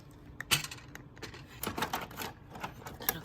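A toner cartridge is pushed into a printer, giving off a series of sharp plastic clicks and rattles close by.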